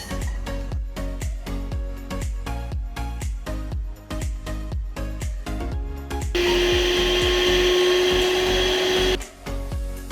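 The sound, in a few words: blending dalgona coffee mixture until fluffy and foamy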